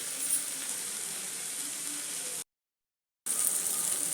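Capsicum and fresh peas sizzle steadily in a covered pan, a close, even frying hiss that breaks off into a short silence before resuming.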